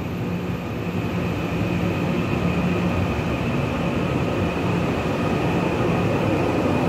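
A ten-car silver-green EMU900 electric multiple unit, set EMU902, on a local service departing Keelung on the Western Line toward Shulin, giving a steady, continuous rumble and hum of a train in motion.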